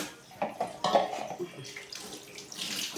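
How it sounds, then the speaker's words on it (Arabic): Filtered water runs from a home water filter tap into a pot of eggs for boiling, a close, uneven splashing stream that swells and fades over a few seconds in a kitchen. "حط لها ميه من الفلتر اهو"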